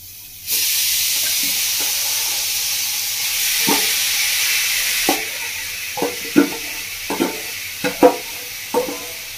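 Sandesh mixture cooked in a hot kadai on a medium gas flame: a constant sizzling hiss with occasional scraping knocks of the spoon against the pan as it is stirred, close and clear.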